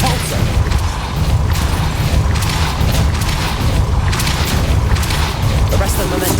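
Depulso spell effect in the video game Hogwarts Legacy, a loud continuous rushing, booming blast with crashing and mechanical clatter, a voice briefly audible over it.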